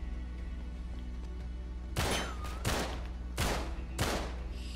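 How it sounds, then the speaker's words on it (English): Gunfire in an Uncharted 3 shootout: four loud, close shots crack out in uneven succession over a steady low ambient hum, each with a short ringing tail. "Our first big shootout."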